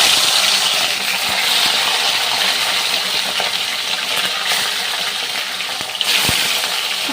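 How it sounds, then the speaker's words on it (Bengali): Bhola fish frying in hot mustard oil gives a steady, loud, dense sizzle that holds throughout, with a sharp tap near the end. "তেলটা গরম হয়ে গেছে আর মাছগুলোকে আমি ভালো করে ভাজা করে নেব।"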